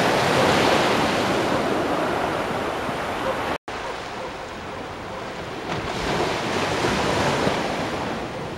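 Ocean surf washes continuously onto a beach at dawn, a broad, steady roar of breaking waves with wind buffeting the microphone, briefly cut by a momentary dropout.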